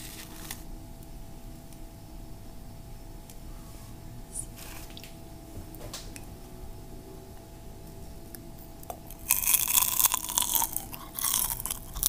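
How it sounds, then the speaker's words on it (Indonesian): Someone bites into crunchy cimol, a hollow snack made from flour, then chews it close to the microphone, with soft crunches giving way to a louder burst of crackling toward the end; no one speaks. "Kriuk sekali ya teman-teman."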